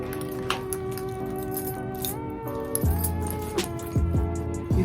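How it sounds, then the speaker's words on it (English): Keys clink and jangle faintly as they are dropped into a Coach Jes crossbody bag in signature canvas, with a few soft rustles and taps at the end. "You can put the keys in."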